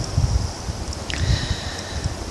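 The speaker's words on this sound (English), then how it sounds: "it's very windy out" Wind gusting outdoors on a blustery day in a garden, a steady rushing roar with low buffeting rumbles against the microphone and a faint rustle throughout, no voices present.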